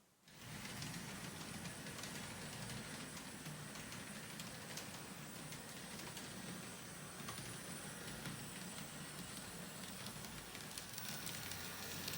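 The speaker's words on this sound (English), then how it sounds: "Here comes the Amtrak train right now passing through Evanston." An Amtrak passenger train rumbles past close by in Evanston with a steady, loud rolling roar and clatter that fades in at the start and holds throughout.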